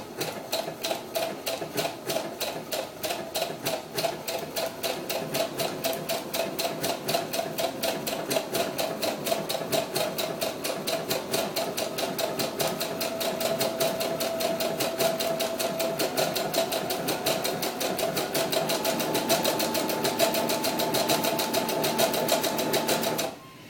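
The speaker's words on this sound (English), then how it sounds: "You're doing this right now, this overlock." An overlocker sews along the edge of a fabric facing for a doll's historical ball gown, giving a fast, steady mechanical rattle that runs continuously for over twenty seconds before stopping abruptly.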